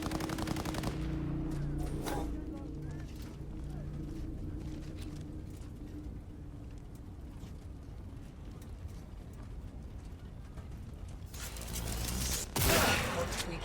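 Rapid bursts of gunfire in the video game Cyberpunk 2077 rattle throughout, with continuous explosive shots layered over a low rumble and a louder blast near the end.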